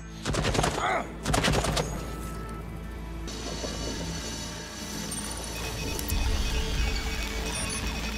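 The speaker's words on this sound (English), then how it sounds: "I'm just going to shoot her, and then she won't alert anyone else" Gunfire in the video game Deathloop on PC: two short loud bursts of rapid shots, followed by ongoing mechanical clatter and hum, with no talking.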